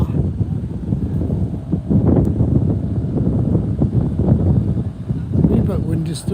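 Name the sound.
wind blowing on the Clyde coast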